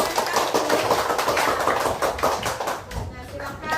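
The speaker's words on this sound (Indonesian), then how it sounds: "Beri tepuk tangan untuk kelompok 4." Classroom applause for a student group in a teacher-training lesson: dense, steady clapping from many hands, loud and close, lasting the whole stretch with voices mixed in beneath.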